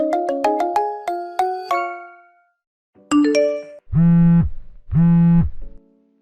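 A phone rings with an incoming call: a quick run of bright chiming notes, a pause, then two sustained buzzing ring bursts, loud and close, with no voices.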